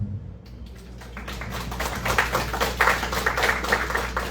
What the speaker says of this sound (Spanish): Vamos a recibir con un fuerte aplauso a nuestro ponente del día de hoy